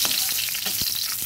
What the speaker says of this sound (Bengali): এবার আমি তেলের মধ্যে কয়েকটা কিশমিশ দিয়ে দিচ্ছি। কিশমিশটা হালকা ভেজে